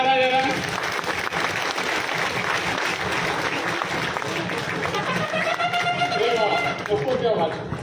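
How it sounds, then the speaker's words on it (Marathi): An audience at a live employment seminar breaks into sustained clapping, a dense steady wash of applause throughout, with voices and murmuring mixed underneath. "तर टाळ्या मारा जरा"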